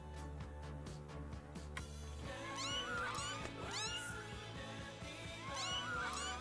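Kittens in What Comes After meow in a run of high, sliding cries, several repeated calls in the second half over a steady game backdrop of music and ambience.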